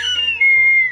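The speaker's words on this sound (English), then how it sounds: "What is this, a whistle?" A small toy whistle from a vintage candy package gives a single shrill, steady blast lasting about a second, loud and close.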